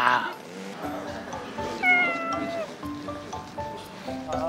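A cat meows repeatedly, close by, in several drawn-out calls, with a person's voice occasionally joining in.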